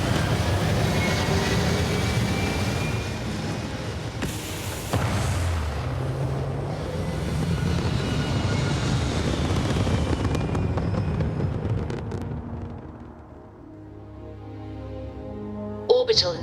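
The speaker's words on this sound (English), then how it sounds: "All thrusters firing." Spaceship thrusters firing in the video game Starfield: a loud, sustained rumbling roar that carries steadily throughout, with a deep low-end swell and a brief sharper burst partway in, fading slightly near the end.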